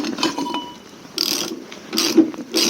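A ratchet works loose engine mount bolts on a Volvo in short, close bursts of clicking, with mechanical rattling between the strokes and no speech.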